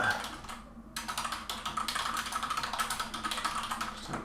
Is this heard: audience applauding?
no